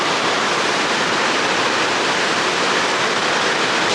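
Huay To waterfall in the Thai jungle, a dense, loud, unbroken roar of rushing, falling water that stays steady and close throughout with no voices.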